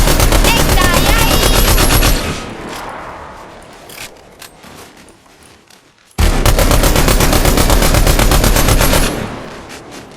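Bursts of automatic gunfire in a Fortnite match, loud and rapid, with a quieter stretch of scattered distant shots in between before another sustained volley.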